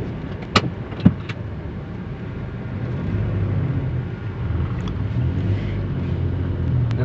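A used car driving along, its low engine and road rumble rising and holding steady after a couple of brief knocks near the start, heard from inside the cabin with no talk.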